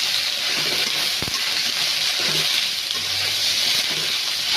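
Cabbage, cauliflower, spring onion and carrot fry in a pan with a steady, close hiss of sizzling, plus a few soft clanks and scrapes of stirring under the continuous sizzle.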